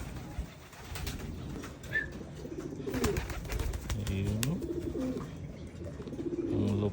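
Pigeons flying free and cooing nearby, soft repeated coos and brief wing flutters mixing in an uneven rhythm, with a faint voice in the background.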